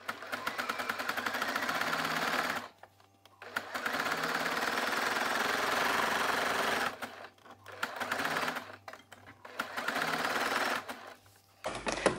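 A sewing machine stitches elastic in long runs of fast, even mechanical whirring, stopping briefly a few times before starting again, close and moderately loud with no talking.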